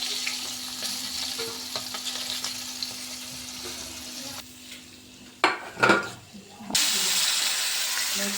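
Pieces of fish crackle and hiss steadily in hot oil in a pan, with a brief quieter stretch and a few louder bursts of spatter or pan handling before the frying resumes.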